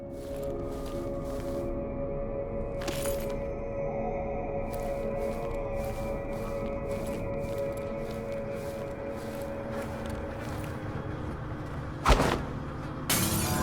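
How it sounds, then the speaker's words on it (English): In Dishonored 2, a thrown glass shatters with one sharp crash near the end, following a long stretch of low droning game ambience. "My next best bet would maybe be to throw a glass or something at them."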